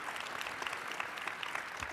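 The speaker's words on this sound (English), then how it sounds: "can we get a big round of applause for our panel today?" A conference audience applauds a panel, a soft, steady patter of many hands clapping at some distance for two seconds.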